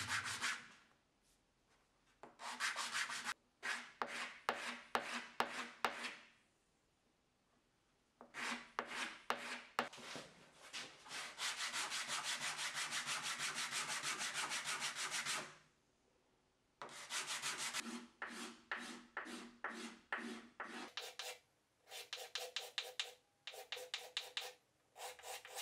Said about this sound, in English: I finished shaping on the sanding block.